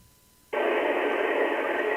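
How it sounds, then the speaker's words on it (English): A radio receiver picking up an SSTV image signal from the International Space Station during a low pass switches suddenly from near silence to a loud, steady band of hissing static-like tone that holds continuously. "we got the signal coming across now. You can hear it in the background."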